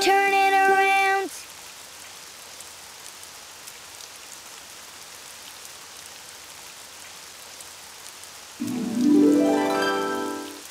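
Steady rain patters and hisses outside at a moderate, even level, with a musical tone at the start and again near the end.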